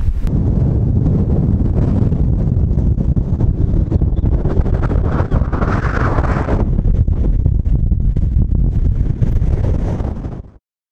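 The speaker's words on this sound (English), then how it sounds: "it is rather windy." Loud, roaring wind buffets the microphone nonstop on a mountain top in the Cairngorms, Scotland, a heavy rumbling gust that persists throughout before cutting off abruptly at the end.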